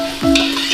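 Onions and mutton for a mutton curry being stirred in a pan: one loud scraping sweep of a spoon over a steady sizzle, close and brief.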